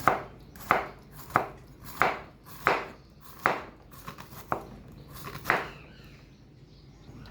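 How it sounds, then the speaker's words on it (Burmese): A knife slices through bitter gourd on a cutting board for a fried bitter gourd with dried shrimp dish, giving about ten crisp, evenly spaced chops close by, with no talking. "အစေထုတ်ပြီးတော့ရင်ဂျင်းငါးသီးလေးတွေကိုပပလှီးပါမယ်ရှင်"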